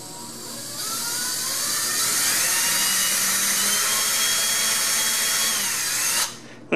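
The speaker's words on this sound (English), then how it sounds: "And of course, let the drill bit do the work." Power drill boring a hole into a soft wood door, a loud, close, continuous high whine that holds steady for several seconds before cutting off abruptly.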